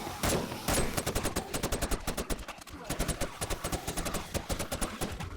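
A rifle fires in 7 Days to Die, with rapid, evenly spaced sharp shots hammering out in a steady rhythm, loud and close throughout.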